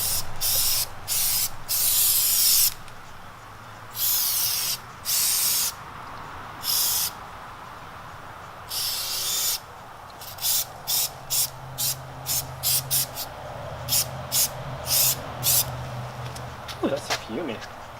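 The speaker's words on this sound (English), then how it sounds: "I'm gonna spray the tire" Tire shine spray hissed onto a car tire in repeated short bursts, first a few longer blasts then a quick run of rapid close sprays, loud and near with no talking.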